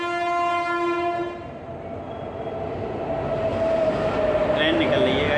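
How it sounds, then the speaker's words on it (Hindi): A train passes close by near a ground in Bhopal, starting with a loud horn and then a continuous heavy rumble of rolling wagons that grows steadily. Someone talks over the noise. "ट्रेन निकल रही है गाइस, थोड़ा शोर हो सकता है।"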